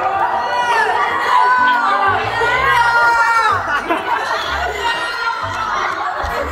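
A dense crowd shouts and chatters loudly all at once, voices overlapping with excited cries and some laughter close by.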